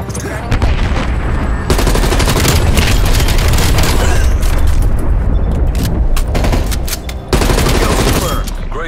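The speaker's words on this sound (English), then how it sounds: "We're taking effective fire. Repeat, taking effective fire." Dense automatic gunfire and heavy booming explosions in the Call of Duty: Black Ops Cold War mission at Mount Yamantau in the Soviet Union, loud and sustained with rapid bursts, a brief drop near the end, then firing resumes.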